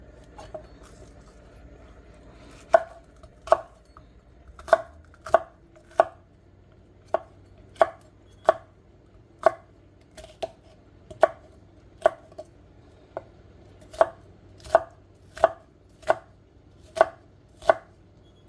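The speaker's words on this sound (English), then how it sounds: "We have this red bell pepper that we're going to chop." Steady chopping of a red bell pepper on a cutting board, about twenty crisp, evenly spaced knife strikes at a relaxed rhythm, close up with no talking.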